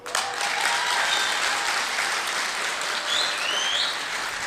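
Dense, steady audience applause at a live event, a continuous wash of clapping that holds at even loudness from start to finish with no voices rising above it.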